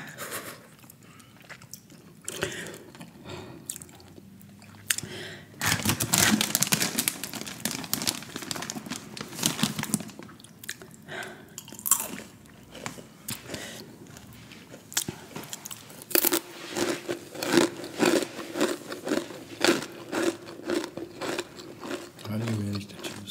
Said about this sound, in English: How do you manage to chew so loud?